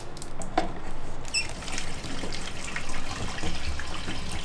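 Water rushing and gurgling through a newly installed toilet drain pipe, a steady close wash of running water lasting throughout, with a brief clatter near the start.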